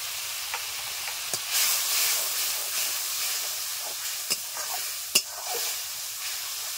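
Cumin, coriander and dried chili powder cooking in a pan with a little water for a Bengali tengra fish dish, producing a continuous bright hiss and sizzle broken by a few sharp stirring clicks, with no talking.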